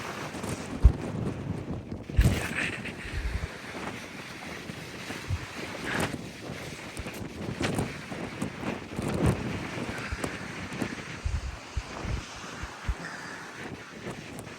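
Gusty wind buffeting the microphone at a cold, windy outdoor spot, rumbling low and uneven, with occasional louder gusts; faint water movement underneath, no voices.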